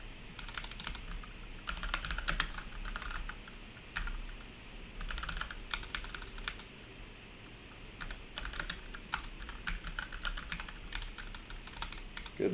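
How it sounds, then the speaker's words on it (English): Someone types on a computer keyboard in close, quick bursts of clicking keys separated by short pauses, with no talking. "Goodness, I cannot type today."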